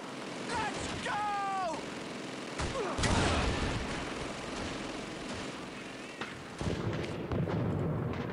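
Grenade explosion in Call of Duty 2 battle, a loud blast among bursts of gunfire and battlefield noise, with someone shouting in alarm nearby.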